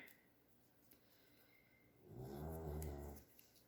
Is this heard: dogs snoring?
yes